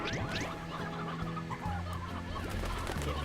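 Chickens cluck in a farming video game, several birds squawking and clucking close together over a steady background music bed with sustained tones.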